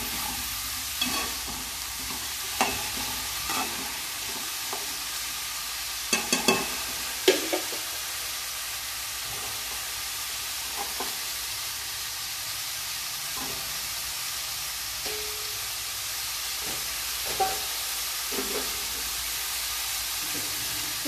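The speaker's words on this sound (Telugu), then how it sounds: "కాస్త వేయిస్తూ ఉండాలి." Ridge gourd curry frying in a pan gives off a steady soft sizzle and hiss, with occasional brief stirring scrapes and clicks at irregular intervals.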